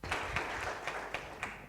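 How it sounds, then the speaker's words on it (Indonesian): A church congregation applauding during a Sunday worship service, steady moderate clapping with a few louder claps standing out, heard at middle distance. "Berikan tepuk tangan meriah buat Tuhan kita,"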